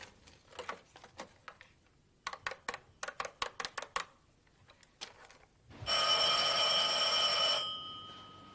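An old telephone from a 1986 French television series rings with a loud, sustained electric bell burst, preceded by a series of sharp clicks and taps in an otherwise quiet room.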